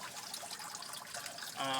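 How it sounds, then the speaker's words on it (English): An aquaponic fish tank's auto siphon kicks on, with a steady rush of trickling, draining water that swells louder and gains a gurgling tone near the end. "one of the tanks is starting to kick off with the auto siphon"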